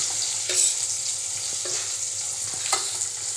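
Garlic, green chilli and onion frying in oil in a kadai, a steady close sizzle with occasional louder crackles and spits, no talking.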